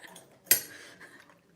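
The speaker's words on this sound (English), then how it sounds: "I'm just dingling my teapot around because my tea's a bit weak" Ceramic teapot swirled around by hand to strengthen weak builder's tea, giving one sharp clink followed by a brief, faint rattling scrape, close by and otherwise quiet.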